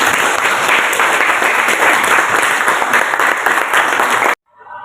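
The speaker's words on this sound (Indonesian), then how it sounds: "Tepuk tangan buat kita semua." Steady, dense applause from a class of students in a school classroom, loud and continuous for over four seconds before cutting off abruptly.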